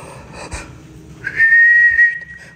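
Someone gives a clear, sustained whistled note lasting about a second, close and fairly loud, after a quieter stretch with faint movement sounds.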